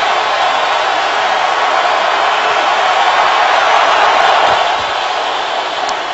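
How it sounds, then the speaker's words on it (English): A loud, steady roar from a packed football crowd inside the Georgia Dome during a Browns–Falcons NFL game, with a broad, unbroken wash of noise that swells slightly and then eases. "The crowd loud with 9:31 to go"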